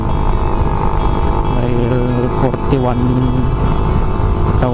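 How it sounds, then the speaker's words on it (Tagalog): Rebuilt engine of a Suzuki Raider Fi motorcycle running steadily at idle, a continuous close rumble with slight rises in pitch, under someone talking. "fresh na naman yung engine ng motor ko, parang bago na naman yung motor natin"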